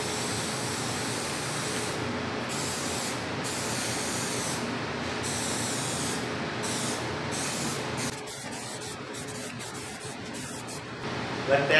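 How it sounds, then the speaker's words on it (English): Spray can hissing as flat red primer is applied to wood, a steady broadband spray that runs continuously with brief pauses, close and fairly loud, ending with a short quieter stretch. "time to put a coat of primer on these, and I'm using this flat red primer"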